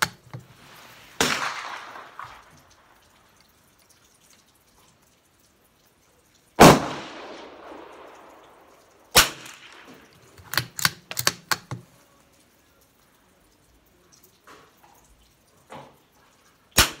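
A Savage MK2 TR rifle fires sharp cracks outdoors, single shots spaced apart and then a quick cluster of several in succession, each with a brief fading tail, with near silence between.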